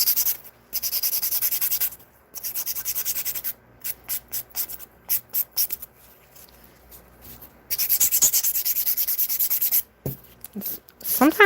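Rasping strokes of a 100/180 grit file smoothing acrylic nails, loud, close scratchy bursts in runs of quick back-and-forth passes broken by short pauses, with brief handling noise near the end.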